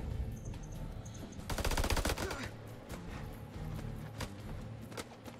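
Gunfire in the House of Ashes video game: a rapid burst of automatic fire followed by scattered single shots and metallic clatter, fairly quiet overall.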